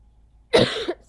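One short, dry, hacking cough bursts out close up after a moment of quiet.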